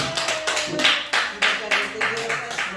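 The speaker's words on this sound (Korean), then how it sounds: "박수 한번 쳐줘요. 박수." Church congregation clapping in rhythmic bursts during a Wednesday worship service, a voice speaking over the claps throughout.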